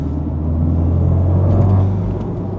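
A BMW drives along a busy road, with a steady low engine rumble and road noise that swells slightly mid-way, heard from inside the car with no talking.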